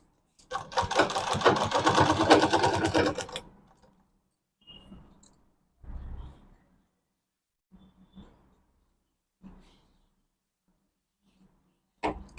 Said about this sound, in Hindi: मोड़ के हम इस तरह से सिलाई लगा देंगे